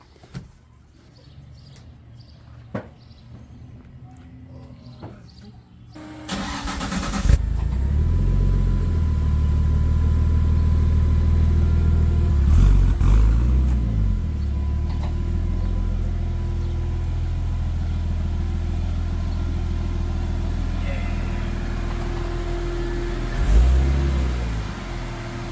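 Quiet shuffling gives way to a Nissan 240SX drift car's engine starting up and a steady low rumble of driving, with a few swells as it revs.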